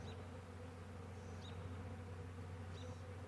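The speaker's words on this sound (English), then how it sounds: "A lot of bees in here." Honey bees from a caught swarm, freshly installed in a hive, give off a steady, dense buzzing hum, quiet and continuous, with no voices.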